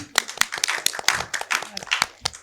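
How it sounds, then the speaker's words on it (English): Scattered hand clapping from a small audience at a corporate e-commerce roundtable, sharp separate claps in an uneven rhythm, fairly close, with some voices mixed in. "Big round of applause."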